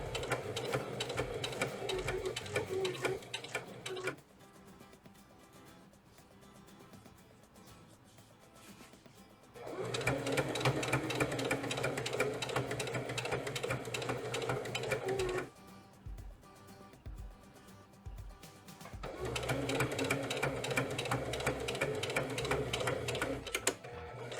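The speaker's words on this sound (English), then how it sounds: "we'll sew right up the other side of the packet" A domestic sewing machine stitches a seam along the side of a fabric piece, running in three long bursts of rapid mechanical whirring and clatter, separated by quieter pauses, close and loud with no talk.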